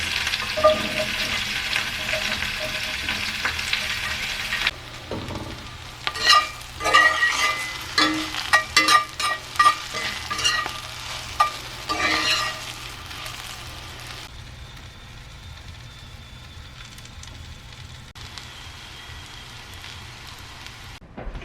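Onions and peppers sweat in a salted pan with a steady close sizzle, broken midway by a run of louder stirring scrapes and clatter before settling back to a quieter hiss.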